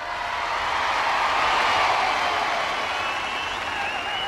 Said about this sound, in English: ladies and gentlemen, to your workstations, applaud them as they go